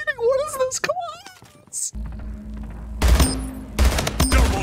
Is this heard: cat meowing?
no